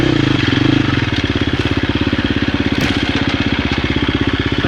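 A trail motorcycle on gentle, steady throttle over a rough, rocky Idaho trail, its engine thumping in a fast, even pulse, loud and close throughout with faint crunching underneath.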